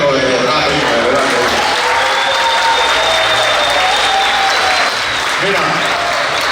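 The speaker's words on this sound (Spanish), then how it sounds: "Vamos a aplaudir a las mujeres, pero de verdad, de verdad." A nightclub audience at a comedy show claps loudly and continuously. Voices and a few shouts are mixed in with the applause, and it stays strong throughout.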